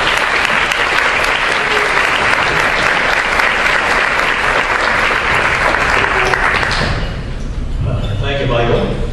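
An audience applauding to welcome a speaker to a lecture hall talk, a dense, loud, steady clapping lasting most of the clip before thinning out near the end.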